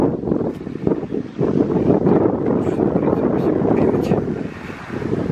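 Steady wind roar buffets the microphone while riding a Jawa 638 motorcycle on a warm day, a dense continuous rush with a low rumble underneath and no clear speech.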